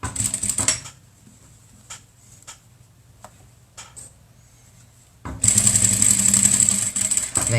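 Sewing machine stitching curved fabric for a face mask, a brief run at the start, a quiet pause with light clicks as the cloth is adjusted, then a loud steady rapid buzz of stitching to the end.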